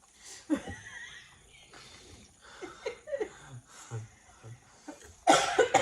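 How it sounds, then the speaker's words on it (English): An old man coughs repeatedly in rough, wheezy bursts at close range, with short pauses between fits and a loud rustle at the end. "Old man cough."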